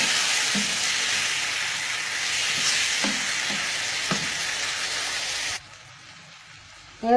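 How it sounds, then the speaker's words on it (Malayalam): Cooked mutton being stirred and fried in a pan with pepper and small onions, a continuous sizzle with a few soft scraping strokes of the spoon, ending abruptly in near quiet. "വേവിച്ച് വെച്ചിരിക്കുന്ന മട്ടൺ ഇതിലേക്ക് ചേർത്ത് നന്നായിട്ട് മിക്സ് ചെയ്തെടുക്കാം"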